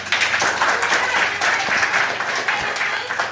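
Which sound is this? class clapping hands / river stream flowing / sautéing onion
class clapping hands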